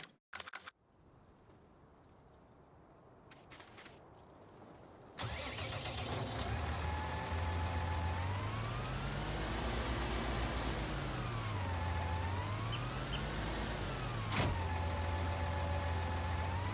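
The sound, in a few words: tractor engine starting in Farming Simulator 19 video game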